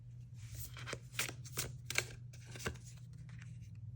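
Tarot cards are shuffled close by in quiet, giving several short papery riffling bursts over a faint low hum.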